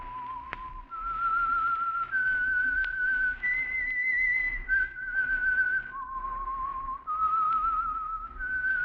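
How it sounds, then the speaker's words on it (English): A lone whistler carries a slow, melodic theme tune for a radio mystery program, the clear tone gliding between held pitches with nothing else alongside it. "That whistle is your signal for the Signal Oil Program"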